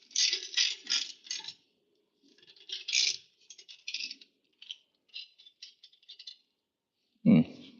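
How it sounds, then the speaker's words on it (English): A worn ball bearing rattling inside a stud installer during a Toyota HZJ75 rear diff centre install, short metallic clattering bursts in irregular clusters with pauses between them, followed by a brief low thump at the end. "my little ball bearing's on its way out in the stud installer"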